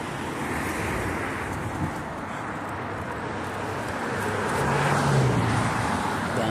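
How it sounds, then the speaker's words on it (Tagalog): Busy road traffic with many cars makes a continuous wash of passing engine and tire noise, with wind buffeting the microphone and a slight swell toward the end. "Dami sasakyan, no guys."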